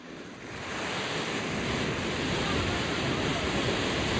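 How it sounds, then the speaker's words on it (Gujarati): Strong floodwater rushes through a village river in Gujarat during heavy monsoon rain, a steady broad roar that swells after the first moment and holds loud and unbroken, with no voices. "બહુ જોરદાર છે પાણી"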